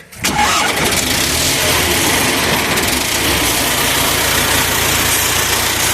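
A T-40 tractor engine cranks and catches, then settles into a steady, loud, close-up idle with a dense rumbling drone that holds for several seconds.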